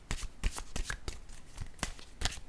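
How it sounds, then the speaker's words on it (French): Tarot cards are shuffled close up, making quick papery riffles and soft slaps in uneven bursts. The shuffling is fairly quiet and plays alone, with no speech. "Je vais piger maintenant une carte, un message de l'univers,"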